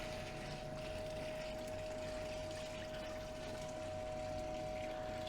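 Water poured from one bucket into a clean bucket while recovering gold foils from computer scrap, a steady close gushing and splashing stream that runs throughout with a constant tonal hum beneath it.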